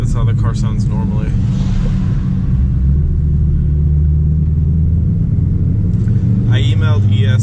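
BMW E92 M3 engine running normally after a cold start, a steady loud low rumble throughout, with people talking over it at the start and end.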